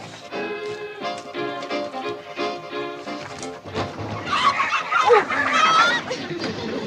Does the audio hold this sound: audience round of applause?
no